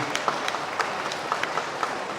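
Scattered applause for the Thai air force and its pilots at a welcome for workers returning from Israel, with a handful of distinct claps standing out over a soft, steady background.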